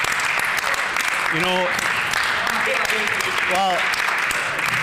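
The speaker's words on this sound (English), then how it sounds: "let's hear some applause for our province" Applause fills a provincial legislative chamber during a speech praising Manitoba, dense and steady throughout, with a voice speaking over it in bursts.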